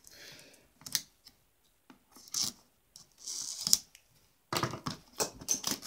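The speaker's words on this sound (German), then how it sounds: "Ich werde jetzt erstmal die Folie entfernen," Crinkling and tearing of plastic shrink wrap being peeled off an anime Blu-ray collector's box with slipcase, in irregular close bursts of rustling with a few sharp crackles and short pauses between them.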